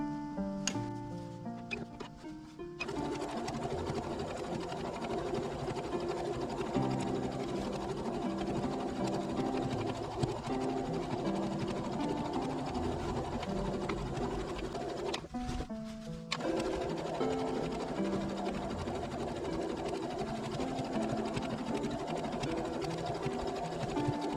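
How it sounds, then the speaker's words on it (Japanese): A sewing machine stitches along the edge of a fabric storage box, running steadily and close up for most of the stretch after a brief hesitant start, with one short pause partway through. "この端も端ミシンかけます。"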